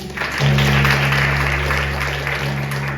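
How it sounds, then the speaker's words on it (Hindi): An audience at a Christian teaching session breaks into applause, a broad clapping wash rising quickly and holding steady, with a sustained low hum running underneath. "ताली बजाएंगे।"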